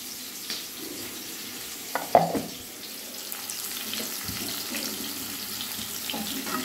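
Food fries in a pan with a soft, steady hiss and sizzle, broken by a few light clinks and stirring sounds, close and fairly quiet, with no talk.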